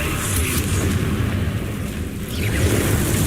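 Explosive fire spell blasts in the wizarding game Hogwarts Legacy, a dense continuous rumble of booms and crackling bursts with no pauses, loud and close throughout.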